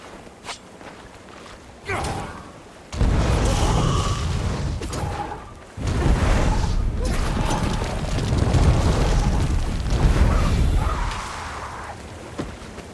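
The Mortis Virge machine powering up in Guild Wars 2, with a sudden booming mechanical surge followed by a sustained heavy rumble and clanking, loud and close, with faint game voices and effects around it.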